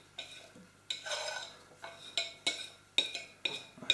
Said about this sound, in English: I'm going to get myself a bowl and just mix these two together, you know, the mashed potato and the vegetables